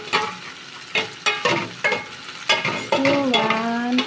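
Thai stir-fried noodles tossed with sweet soy sauce in a hot pan: a series of rhythmic scraping, tossing strokes with bursts of sizzle, then a louder continuous sizzle with a faint tonal ring near the end.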